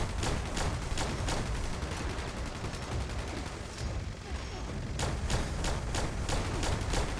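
Rapid bursts of gunfire in the video game Fallout 76, repeated sharp shots in quick runs over continuous game background noise, with a brief pause midway before the firing resumes.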